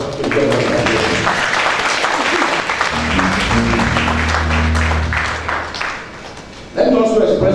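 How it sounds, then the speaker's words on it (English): Audience applause at an ECOWAS Human Rights Day celebration in Liberia, a steady, loud wash of clapping held for several seconds, with voices and a low tonal hum mixed in beneath it. "Shall we give a round of applause to the President of Nigeria?"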